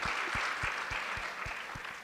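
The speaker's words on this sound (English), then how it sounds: "Let's give an applause for Dad in heaven." Audience applause at a HERStory event with Dominique Anglade and Régine Chassagne: a steady wash of clapping from a crowd, fairly quiet, with a soft regular thumping pulse underneath.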